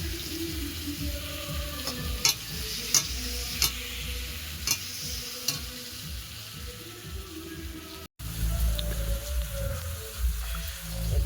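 Pumpkin fries in a pan with chili, a continuous close sizzle punctuated by sharp clinks of a spatula stirring against the pan.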